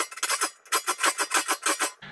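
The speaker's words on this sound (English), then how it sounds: "you only want to file the teeth that are within this vise" Hand saw held in a vise having its teeth sharpened with a metal file: close, rhythmic rasping strokes, about a dozen in quick succession, each a short scrape with brief pauses between.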